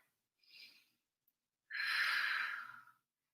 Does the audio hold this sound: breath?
yes